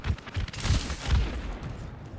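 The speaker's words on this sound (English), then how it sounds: "Getting shot at." Gunfire in a first-person shooter game, a few heavy low thumping shots in quick succession, close and loud over a busy background.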